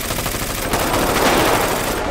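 Sustained automatic gunfire rattles on for over two seconds in GTA V, a dense, loud, unbroken burst close to the listener with no clear gaps.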